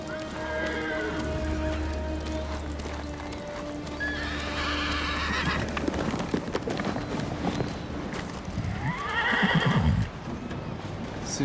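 A horse in Ghost of Tsushima, fitted with armor, clops its hooves steadily and lets out two loud, close neighs amid light rain-like patter.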